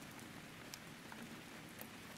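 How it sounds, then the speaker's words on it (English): Steady soft rain patters on a surface with scattered small drops, a faint, even hiss that plays alone throughout. "This is 10 hours of rain."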